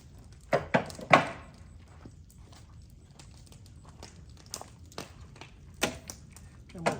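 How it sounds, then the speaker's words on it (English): Clamps being released from a wooden straight-edge jig: a few sharp knocks and clicks near the start, then scattered light taps and rattles, close and moderately loud. "we'll go ahead and unclamp"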